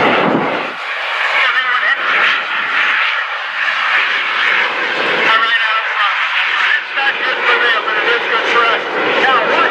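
An FA-18 jet at a beach air show roars loudly and steadily as it passes at low speed, a dense sustained engine rumble filling the whole stretch while an announcer talks over it.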